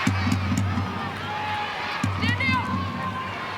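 Home crowd noise at a women's rugby league match in Canberra, a steady murmur of many voices with scattered cheers and shouts rising and falling throughout, heard from within the stadium.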